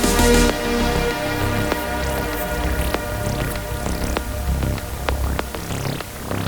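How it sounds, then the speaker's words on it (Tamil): Ginger garlic paste and onions frying in hot oil for quail biryani, a steady crackling sizzle with dense popping and spattering throughout, close and fairly loud with no talking. "அதனால நல்லா எண்ணெயில வதக்கி எடுத்துக்கோங்க."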